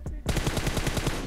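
A rapid burst of automatic gunfire from the mobile game PUBG Mobile rattles out in evenly spaced shots after a brief quiet moment, loud and close.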